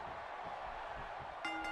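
A boxing bell rings once near the end, sharp and metallic, from the wrestling video game WWE 2K16, above a steady arena crowd murmur.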